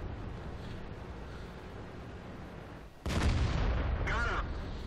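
A T26E4 Super Pershing tank gun fires in World of Tanks, a sudden loud broadband blast about three seconds in that cuts through a steady low rumble of battle ambience, followed by a lingering roar with a brief tonal sweep.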